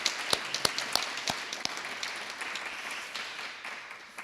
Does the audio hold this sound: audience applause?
yes